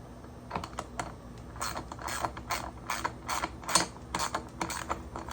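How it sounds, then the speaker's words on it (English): Screws driven by hand to fix a Megamoto fender onto the front of a Trail Master MB200 minibike, with a run of quiet, close ratcheting clicks and small metallic ticks in an irregular rhythm. "We're screwing on the Megamoto Fender here in the front of the MB200 too."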